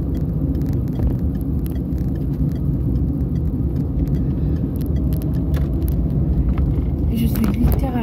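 Steady low rumble of a car driving through a town centre, heard from inside the closed cabin, a constant road and engine drone with faint small clicks and rattles throughout.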